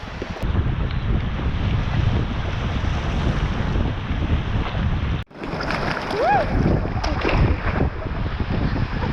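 Sea waves churning and splashing under heavy wind buffeting the microphone, a steady loud roar while paddle boarding off Burry Port beach, with a brief dropout midway.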